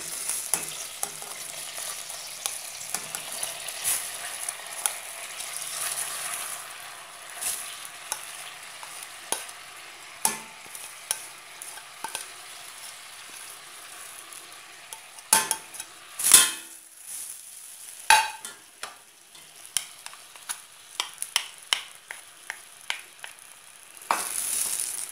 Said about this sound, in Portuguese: Vamos mexer, misturar bem.